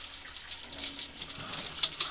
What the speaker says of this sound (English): So then you just rinse it through, and this throws off the paint and the water.